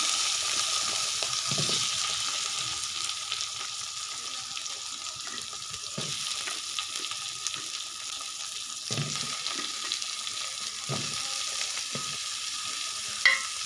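Cut potato and pumpkin pieces fry in a pan with a continuous soft sizzle, punctuated by occasional stirring scrapes and knocks, with no talking.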